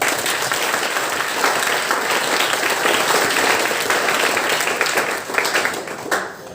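An audience at a school inauguration and felicitation ceremony applauds the secretary loudly, with sustained, dense clapping from a large crowd that tapers slightly near the end.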